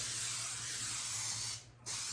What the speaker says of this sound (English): I'm doing a light spray before I lay down my crackers